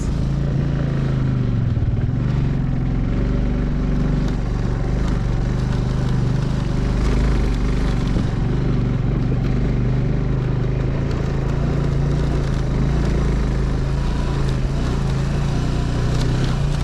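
Motorcycles ride along a mountain road toward Sach Pass, with a steady low engine drone, rumbling tyres and occasional rattles, the engine note rising and falling slightly as the bikes climb.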